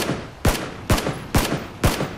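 Gunfire in the video game Battlegrounds: four loud, sharp shots spaced evenly about half a second apart, each with a short echoing tail.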